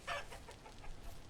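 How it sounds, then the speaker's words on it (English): Rooster clucking in the survival game Vintage Story: a short cluster of bright clucks near the start, then softer repeated calls over faint background noise. "Stop, rooster. I don't want to pick you up."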